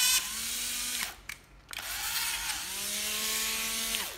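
A Japanese-made cordless drill whirs loud and close, revving in two long runs with a brief stop and spin-down between them; no one speaks.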